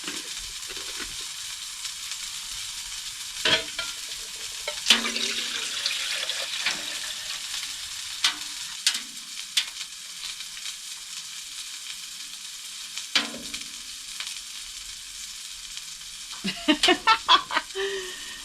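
A soft, continuous hiss and faint sizzle of water heating in a pot on a wood stove in a pallet-wood cabin, with scattered clinks and taps and brief quiet sounds near the end.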